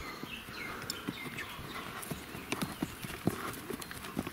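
A horse walks with steady clip-clopping hooves on hard ground outdoors, the hoofbeats fairly faint and regular against soft background noise, with a bird calling faintly.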